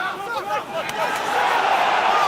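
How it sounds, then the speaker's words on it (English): Rugby stadium crowd at a Top 14 match between Brive and Lyon, a broad roar of disapproval and whistling that swells and holds, with a commentator talking over it. "Crowd don't like something."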